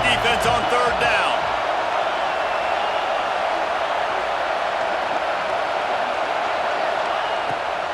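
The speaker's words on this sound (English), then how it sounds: "Decibels rising as the crowd gets behind this defense on third down." Stadium crowd noise builds behind the defense on third down in the College Football 26 video game, a loud, steady roar that swells after a brief burst at the start.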